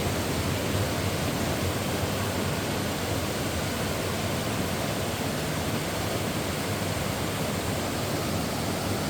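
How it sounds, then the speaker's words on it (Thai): An artificial waterfall at a museum roars steadily and loudly, a dense, unbroken rush of falling water that stays constant throughout with no voices. "โน่นน้ำตก"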